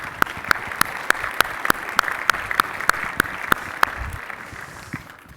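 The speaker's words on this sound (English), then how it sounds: "give them a warm welcome of applause as they take the stage" Audience applause at a sports analytics conference welcoming an NFL Media panelist to the stage, steady dense clapping with sharp regular claps standing out, fading toward the end.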